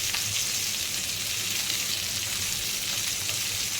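A whole pomfret coated in semolina and green masala fries in a pan, Konkan style, giving a steady, close sizzle and crackle of oil with no talk throughout.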